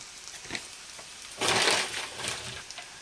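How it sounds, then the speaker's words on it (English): All-purpose flour frying in a pan with onion, a soft crackling sizzle with a louder scraping, stirring burst in the middle, fairly close and fading back to a quiet sizzle. "add 1 tablespoon of one all-purpose flour and fry them very nicely"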